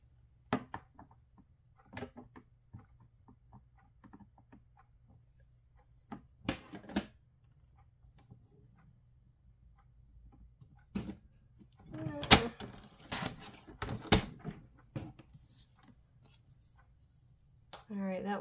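Paper is snipped with scissors while making a decorative notepad: scattered sharp cuts and rustles, some clustered together, with quiet gaps between and occasional soft speech.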